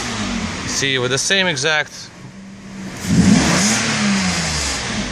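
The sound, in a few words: Mercedes S600 V12 car accelerating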